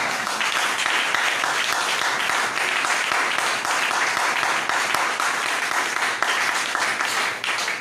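A church congregation breaks into sustained, dense applause and cheering acclaim, loud and continuous throughout, with a roomful of hands clapping and voices rising together.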